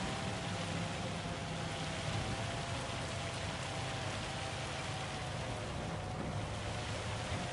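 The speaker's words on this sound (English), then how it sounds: "I'm tired of this rain" Steady rain in Farming Simulator 25 hisses continuously and evenly at the farm, a dense wash of droplets under a low constant hum, with no speech.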